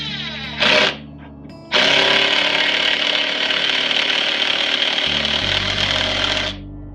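A power drill drives screws into the legs of a simple wooden workbench: a brief whirring burst, then a loud, close, sustained drilling whir lasting several seconds before it stops, with no talking.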